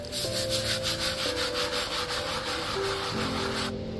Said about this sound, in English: not even 10 seconds of scrubbing in one spot